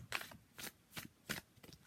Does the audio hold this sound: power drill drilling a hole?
no